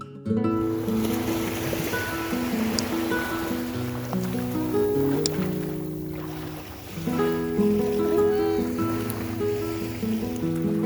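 Waves wash onto a cold beach at Port Townsend, a continuous rolling surf that swells and eases, heard alongside faint steady tones and distant background activity.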